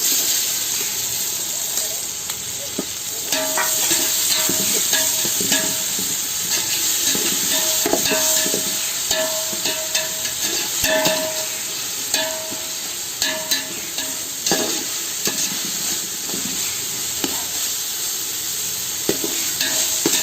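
Ginger garlic paste frying in a pan for chicken dum biryani, a loud continuous sizzle and hiss with frequent scraping stirs of a utensil against the pan throughout, close up and without talk.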